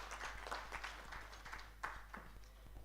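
Scattered applause from a conference audience at a national social protection dialogue greets a panelist, a quiet and fairly distant patter of hands with a few sharper individual claps standing out.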